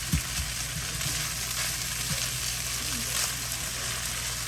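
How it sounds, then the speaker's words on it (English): Dirty rice with sausage and soy sauce sizzles in a pan while being stirred, a steady frying hiss with occasional soft scrapes of the spoon, no talking. "make sure you keep stirring it to get everything mixed in well"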